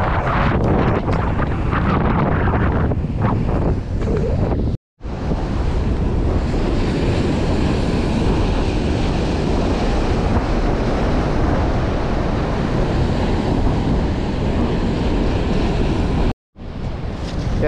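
Rough ocean waves crash and roar around a small fishing boat at sea, a loud, continuous wash of surf heavily buffeted by wind noise on the microphone, with two brief dropouts.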